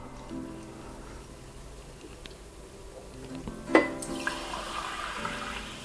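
Homemade SodaStream sparkling water pours into a glass, a soft trickling splash that swells midway with a sharper clink and fizzing hiss, then settles into quieter bubbling.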